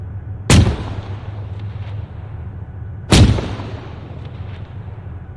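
Two loud booming artillery shots of high-explosive rounds from the Arma 3 game ring out about two and a half seconds apart, each a sharp blast fading into a rumbling tail.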